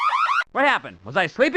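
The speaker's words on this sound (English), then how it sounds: "No, that's the alarm." An alarm from the video game The Adventures of Hyperman, a warbling electronic siren-like tone rising and falling in pitch, loud and close, with a cartoonish voice talking over it.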